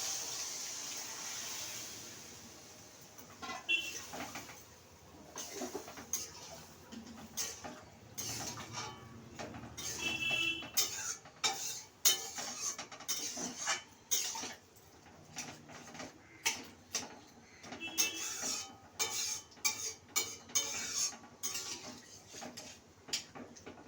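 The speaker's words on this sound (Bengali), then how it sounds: "এবার আমি সেদ্ধ করা কাবলি ছোলাটা দিয়ে দিচ্ছি।" Boiled kabuli chickpeas tipped into a pan of cooked-down chana masala, with clattering utensil knocks, scraping and wet stirring sounds in an irregular series of sharp close taps.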